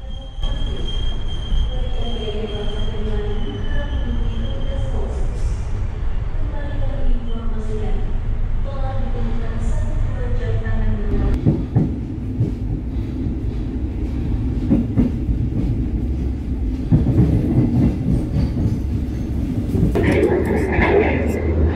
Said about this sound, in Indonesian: kereta api Ciremai diberangkatkan dari stasiun Cirebon